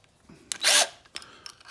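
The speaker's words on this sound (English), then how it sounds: "I got my drill gun" A Harbor Freight cordless drill gives one short, close whirring burst, followed by a few faint clicks and handling taps.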